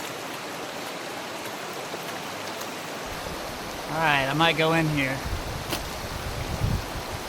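Fast-moving, deep mountain river water rushes with a steady broadband hiss, constant in the background while someone speaks briefly over it.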